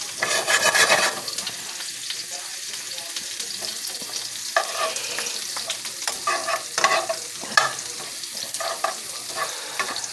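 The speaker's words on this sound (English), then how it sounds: "we're going to let these sizzle and get brown on them" Mushrooms frying in butter in a pan, a steady close sizzle with stirring and scraping bursts throughout, no talk.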